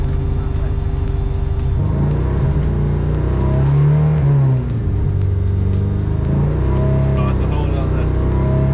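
A race car engine revs loudly and close by during a trackside noise test with a 100-decibel limit, holding a high, droning pitch that rises and dips slightly over several seconds.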